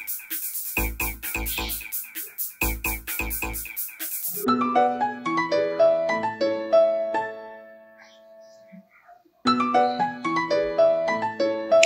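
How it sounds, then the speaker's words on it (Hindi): A Nokia ringtone's melodic electronic tones play loud and close, following an opening burst of broadband noise, pausing briefly before the melody resumes. "वीडियो के बीच में नोकिया का रिंगटोन क्या करते हैं देखते हुए"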